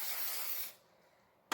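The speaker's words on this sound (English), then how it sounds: "Spray the top of this," A spray bottle mists the top of a shaped loaf of multi-seeded white bread dough, a steady close hiss lasting under a second, then quiet before a brief sharp burst at the end.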